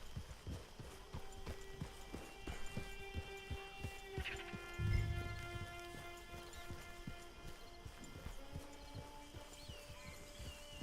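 Horse hooves clip-clopping at a steady walking pace in the Red Dead Online video game, faint and close, with sparse tonal game sounds and a brief low thump in the middle.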